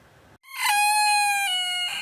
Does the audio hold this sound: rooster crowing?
yes